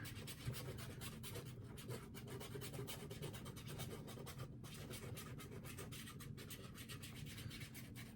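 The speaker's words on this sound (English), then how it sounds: "I'm just scratching enough to see a little bit of the color." Scratch-off game card being scratched, heard as a soft, continuous, close rasping and rubbing with rapid repeated strokes, faint and alone without talk.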